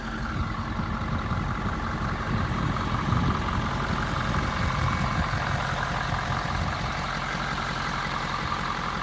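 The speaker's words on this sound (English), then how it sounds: "it's not a very loud diesel motor. It's pretty quiet for the most part." A 6.7-liter Power Stroke turbo diesel in a 2018 Ford F-250 Lariat idles with the hood open, a steady, fairly quiet low rumble and soft clatter that holds even and continuous throughout.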